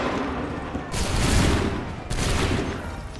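Two loud musket volleys from Assassin's Creed 3 crash out, each a dense ragged burst of many shots fired together, with a short quieter gap between them.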